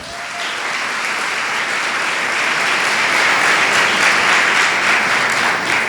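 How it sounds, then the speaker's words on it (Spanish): A church congregation applauds, a dense, loud, sustained wash of clapping that swells slightly and holds steady throughout. "denle un aplauso al Señor"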